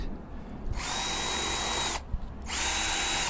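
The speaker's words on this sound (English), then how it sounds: "So I've got a concrete drill bit." A power drill with a concrete bit whirs in two loud, steady bursts with a short pause between them, close up with no talking.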